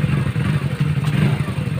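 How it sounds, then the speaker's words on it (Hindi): A Hero motorcycle engine, a BS6 commuter bike such as a Splendor Plus or HF Deluxe, starts up and revs steadily for a couple of seconds with a loud, continuous low throbbing idle and no speech. "Bike start."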